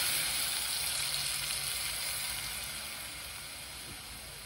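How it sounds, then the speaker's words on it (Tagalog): A cooking pot sizzles steadily and fairly quietly as water goes in, a broad frying hiss that slowly softens toward the end, with no talk. "Lagyan na natin ng water."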